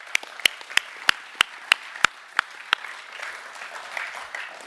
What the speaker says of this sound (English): Can we please give him one last round of applause?